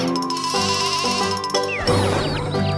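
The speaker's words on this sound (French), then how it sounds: "une chèvre, un mouton," A goat and a sheep bleat in turn over bright, tinkling music, the calls loud and close.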